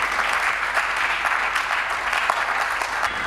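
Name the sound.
church congregation applauding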